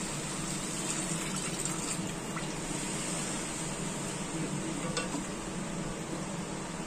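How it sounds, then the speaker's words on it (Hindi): Water goes into a hot pan of dhaba-style egg curry with potatoes and fried masala, giving a steady hiss and bubbling sizzle that holds evenly throughout with no voices. "अब इसमें हम पानी ऐड करेंगे।"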